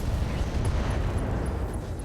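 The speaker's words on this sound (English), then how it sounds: "Supercharger explosion." A supercharger explosion in a mech video game, heard as a sustained, loud, rumbling blast roar with dense low-end energy across two seconds, with faint periodic high beeps riding on top.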